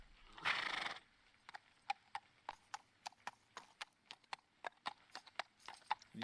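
Horse in a video game, a short neigh followed by a steady run of rhythmic hoofbeats, clear and fairly close.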